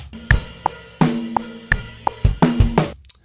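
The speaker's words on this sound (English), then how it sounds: "You can see here the whole transient of the kick's been chopped off," A drum loop with kick hits whose transients have been chopped off, sounding soft and blunted, alongside snare and hi-hat hits in a steady groove.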